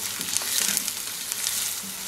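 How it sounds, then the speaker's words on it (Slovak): Chopped onion fries and sizzles in a cauldron for Slovak goulash soup while being stirred, a steady close hiss with soft scraping stir sounds throughout. "Pomaly miešame, kým cibuľa sa neupraží."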